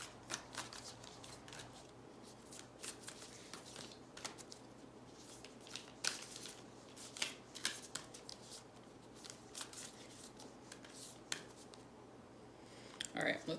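Tarot cards are shuffled by hand for a clarifying draw, a quiet run of soft, quick riffles and flutters that repeats irregularly, close and faint.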